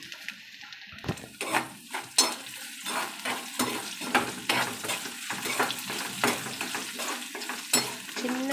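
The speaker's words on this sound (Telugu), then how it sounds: "పచ్చిమిర్చి ముక్కలు వేస్తున్నాను" Onion and green chilli pieces fry in a pan, their steady sizzle broken by repeated scraping stirs of a spoon against the metal pan, close and alone.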